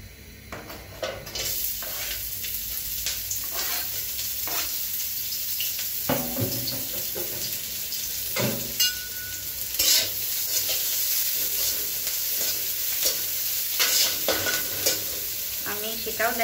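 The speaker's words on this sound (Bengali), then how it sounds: "তেলটা গরম হলে আমি পেঁয়াজ কুচি এবং মরিচ কুচিটা দিয়ে দিব" Chopped onion and chili fry in hot oil in a pan for a quick noodle dish, a continuous loud sizzle with frequent stirring clinks and scrapes throughout.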